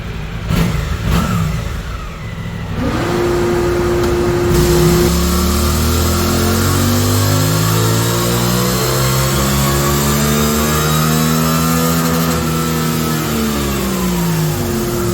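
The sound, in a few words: 2024 Suzuki GSX-8R motorcycle revving on dyno in 5th gear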